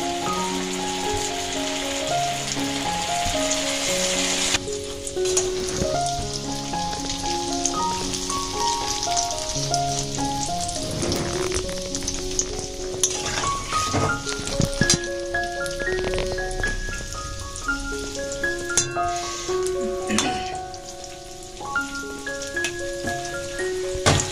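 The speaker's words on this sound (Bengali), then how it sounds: "হালকা আঁচে ভাজতে হবে, বেশি চড়া আঁচে ভাজবেন না, আর পুড়ে যাবে।" Battered cauliflower manchurian pieces frying in hot oil on low heat, giving a steady, dense, rain-like crackle and hiss throughout, partly masked by loud background music with melodic tones.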